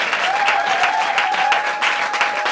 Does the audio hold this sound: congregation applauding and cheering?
yes